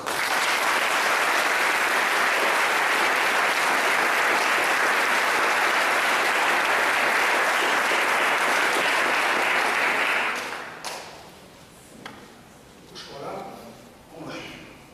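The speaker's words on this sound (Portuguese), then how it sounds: "Vamos aplaudir o Senhor." Loud, sustained applause from a large church congregation fills the space for about ten seconds, then cuts off abruptly, leaving a few faint sounds and quiet speech.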